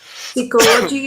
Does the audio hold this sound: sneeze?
yes